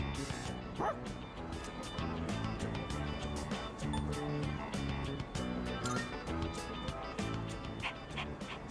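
A stray dog in the video game Persona 3 Reload whimpering and yipping in short repeated bursts over continuous game music, with occasional soft talking underneath.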